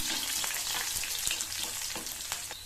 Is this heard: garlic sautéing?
yes